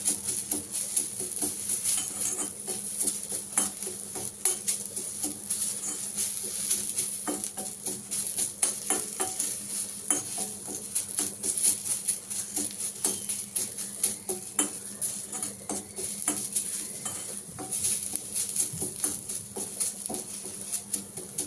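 Curry leaves dry-roasting in a pan with no oil, crackling and pattering continuously at close range, with scraping stirs and occasional clinks of the utensil against the pan.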